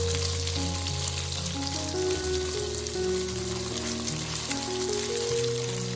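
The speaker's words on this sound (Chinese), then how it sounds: "然后把腐竹倒进锅里，用锅铲将里面的腐竹拍散开来，让其受热均匀。" Dried tofu skin fries in hot oil in a wok, giving a continuous, fairly loud crackling sizzle throughout, with faint tonal music running underneath and no speech.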